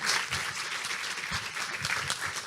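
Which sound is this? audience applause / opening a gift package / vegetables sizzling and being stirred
audience applause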